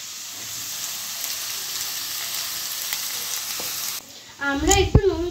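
Chopped onion sizzles steadily in a hot pan, a constant frying hiss that drops briefly before a louder burst of stirring and spatter near the end.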